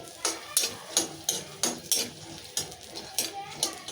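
Peanuts and dried coconut roast in a pan for a tomato and green chili chutney. A utensil stirs and scrapes against the metal in a steady rhythm of close, clinking strokes.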